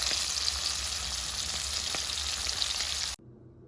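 Garlic butter shrimp sizzle and crackle steadily in a hot pan, a close, even frying hiss with small pops that cuts off abruptly near the end.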